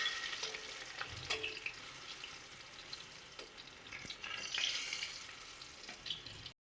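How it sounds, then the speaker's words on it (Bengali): Pointed gourd (potol) pieces fry in oil in a pan as their second side browns, giving a constant soft sizzle with occasional faint clinks and stirring sounds. "এবার আরেকটা পিঠ সুন্দর করে লাল লাল করে ভেজে নিচ্ছি।"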